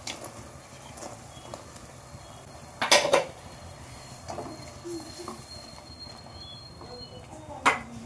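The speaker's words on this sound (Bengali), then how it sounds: "এবার আমি যে কাঁকড়াগুলো ভেজে রেখেছিলাম সেই চিতি কাঁকড়াগুলো দিয়ে দেবো।" Fried chiti crabs dropped into tamarind pulp cooking in a pan, a few distinct clattering knocks of shell and utensil against metal over a low simmering background, close and fairly clear.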